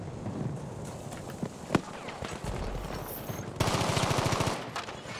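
Battlefield 5 multiplayer gunfire on an airfield map: scattered single shots then a dense, loud burst of automatic fire near the end, over busy battlefield ambience with no clear talk.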